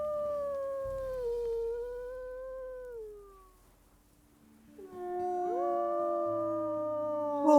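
Wolves in the video game WQ howl in long, wavering, sliding calls, one howl fading out before a second rises with overlapping voices, fairly loud and close with no talking.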